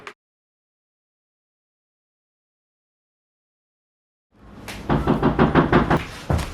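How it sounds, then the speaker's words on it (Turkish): A series of rapid, fairly loud knocks on a door arrives suddenly after a long stretch of silence, striking in an even, hurried rhythm. "Kapı çaldı lan"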